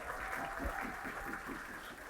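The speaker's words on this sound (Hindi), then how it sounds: "एक बार जोरदार तालियां अपना सर्वम।" A classroom audience claps together in a faint, steady patter that continues evenly throughout.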